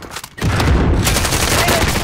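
Bursts of automatic gunfire from the video game Call of Duty: Modern Warfare, a loud, sustained volley of rapid shots after a brief quieter moment, with a voice briefly heard amid the shooting.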